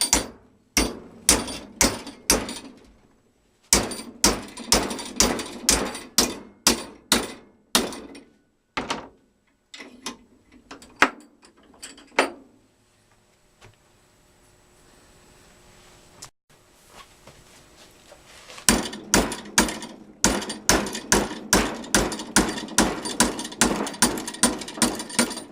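Sharp, ringing hammer blows strike metal in quick bursts of repeated hits, pausing in the middle before resuming in a steady, rapid series, while shaping a metal motorcycle camera mount.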